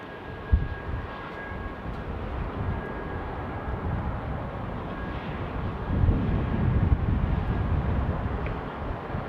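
An Embraer E-175 airliner taking off from runway 34 right, heard as a broad steady roar with wind buffeting that swells louder toward the end, continuous and without speech.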